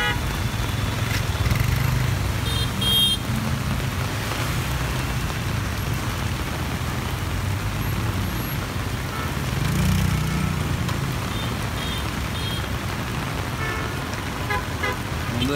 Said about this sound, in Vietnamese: Mưa nhỏ đi rồi, mưa tầm này thì ok.